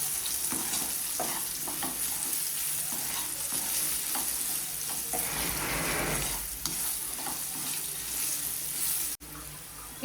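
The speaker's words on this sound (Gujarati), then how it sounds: "સ્વાદ અનુસાર નમક ઉમેરીશું, હળદર ઉમેરીશું, હલાવી લઈશું" Okra and potato curry, seasoned with salt and turmeric, is stirred in a pan, with close scraping strokes over a steady frying sizzle that ends abruptly.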